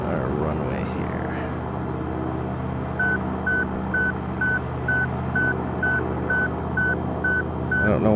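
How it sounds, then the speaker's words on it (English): In the X-Plane flight simulator, a Piper Arrow's landing gear warning repeats a steady, evenly spaced beep, about one every half second, sounding clearly over the constant drone of the propeller engine. "it doesn't like this altitude because my gear is down, or my gear is up"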